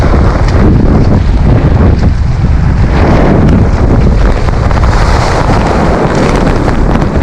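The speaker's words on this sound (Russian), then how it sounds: "Ветер очень сильный." Strong, steady wind on the Black Sea coast at Lazarevskoye near the Psezuapse river mouth buffets the microphone with a continuous loud roar, rumbling low throughout with no break and no voices.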